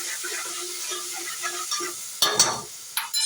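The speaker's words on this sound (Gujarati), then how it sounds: "હવે નાખીશું ટમેટા ખમણેલા. થોડું મસ્ત પકાવી દઈશું તેલમાં." Grated tomatoes cook in hot oil for a drumstick sabzi. A steady sizzle runs under intermittent stirring, with sharper scraping bursts near the end. No one speaks.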